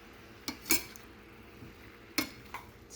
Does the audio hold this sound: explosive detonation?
no